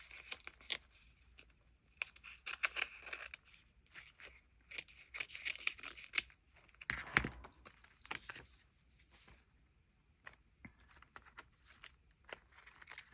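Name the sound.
scissors cutting paper for junk journal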